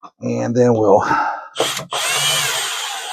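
A power drill set to low torque tightens screws into a kayak's accessory track, whirring in a couple of short bursts, close and loud, after someone speaks.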